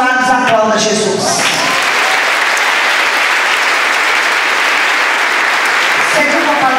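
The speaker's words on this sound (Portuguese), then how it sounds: "Aplauda Jesus." A church congregation at a women's congress applauds steadily and loudly, the clapping rising after a brief voice at the start and holding as a dense, continuous wash for several seconds.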